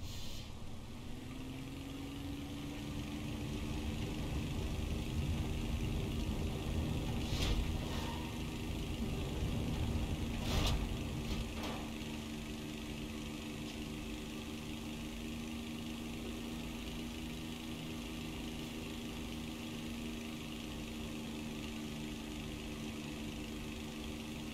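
A jet engine spools up in a flight-simulation game, a steady droning whine with rising tonal hum that builds and holds at a constant level, with a couple of brief clicks partway through.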